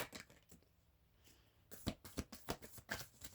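Oracle cards are shuffled by hand, a quiet soft riffle at first, then a run of sharper, rhythmic flicks and slaps of the deck close by.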